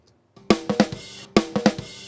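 Quick acoustic drum kit fill played untriggered, a short rhythmic burst of snare and tom hits that plays twice as a loop, close and punchy with no talking.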